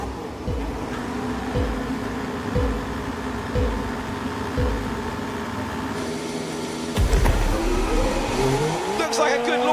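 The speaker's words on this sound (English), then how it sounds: "Looks like a good launch from Oscar Piastri." Formula 1 race cars launch off the grid at a race start, loud high-revving engines whining and climbing in pitch with repeated gear-shift surges, growing louder near the end.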